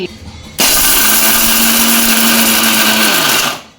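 A mixer grinder whirs at full speed for about three seconds, grinding dry fruits such as cashews for laddoos, starting abruptly and spinning down at the end, loud and close.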